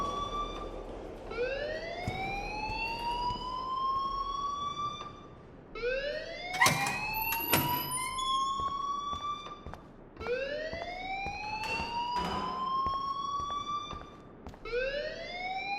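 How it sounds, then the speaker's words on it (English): In the video game Life is Strange, an electronic alarm wails in long rising sweeps, repeating about every four seconds, steady and moderately loud with no talk over it. "please turn off that alarm since that's your job"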